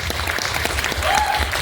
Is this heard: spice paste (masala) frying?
no